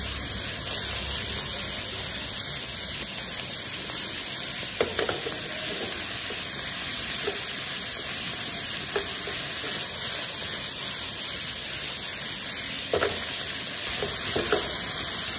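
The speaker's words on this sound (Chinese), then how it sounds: "然后开最大的火，给它翻炒均匀" Swiss chard seasoned with salt and MSG stir-fried in a wok over maximum heat, a steady loud sizzle throughout with occasional scraping clicks of the spatula tossing the greens.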